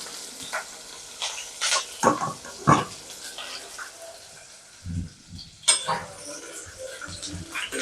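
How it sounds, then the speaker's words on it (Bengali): Spice paste frying in hot oil in a wok gives intermittent bursts of sizzle and scraping as it is stirred, with quieter gaps and some clatter between, close and fairly soft. "পেস্টটাকে আমি ভালো করে ভেজে নেব।"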